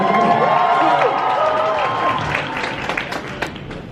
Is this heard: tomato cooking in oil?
no